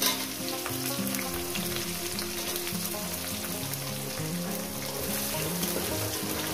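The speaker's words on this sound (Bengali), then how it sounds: "পেঁয়াজটাকে দিয়ে আমি একটু 2 মিনিট ভেজে নেব।" Chopped onion frying in oil for a fish curry with okra, making a loud, continuous crackling sizzle close to the pan with faint stirring throughout and no talking.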